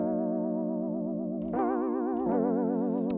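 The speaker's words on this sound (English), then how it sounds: "And then, of course, you have your classic sine wave." Synth tone run through the MacroMacro plugin LFO with classic sine wave modulation, a sustained, bright, distorted note wobbling smoothly and regularly in pitch, stepping up slightly twice, alone.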